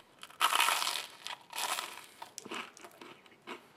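Crisp bites into chili garlic BBQ bread, a ready-made Meggle garlic-baguette style loaf, giving several loud close crunches and crackles in irregular bursts, with no talk.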